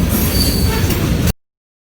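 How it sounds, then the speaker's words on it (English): An Amtrak passenger train passing close by, a loud continuous rumble of wheels on rails with a high squeal, cutting off abruptly after about a second. "The same Amtrak that came southbound is going northbound"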